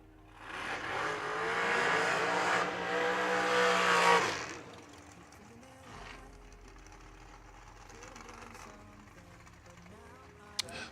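Dragster race cars on a drag strip roar loudly for several seconds before fading and cutting off, followed by quieter ambient noise and a distant announcer-like voice.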